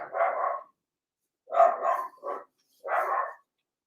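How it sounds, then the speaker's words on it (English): A dog barks three or four times in an uneven pattern, near and moderately loud, with short silences between the barks and no other sound. "Oh, this dog."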